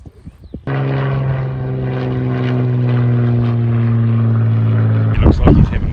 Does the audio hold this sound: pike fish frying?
no